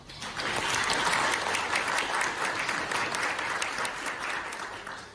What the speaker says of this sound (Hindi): आज मैं एक बार प्रभु में ताली बजाना चाहती हूँ